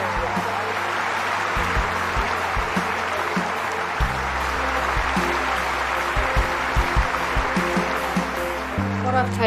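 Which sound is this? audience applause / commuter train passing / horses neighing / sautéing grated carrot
audience applause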